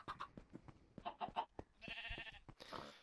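Sheep in a Minecraft zoo, a few short bleats mixed with other blocky game noises and clicks, fairly quiet and close.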